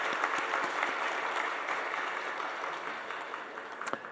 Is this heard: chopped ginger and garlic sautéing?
no